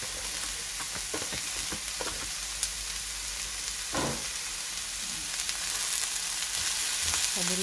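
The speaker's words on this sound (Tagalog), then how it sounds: "Ihalo na natin lahat." Pancit noodles with celery stirred and tossed in a hot pan, a steady sizzle of frying under repeated scraping and clattering strokes of a utensil, close and continuous.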